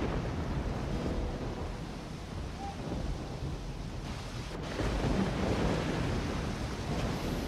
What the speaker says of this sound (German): Das ist ein bisschen zu viel Unwetter für mich.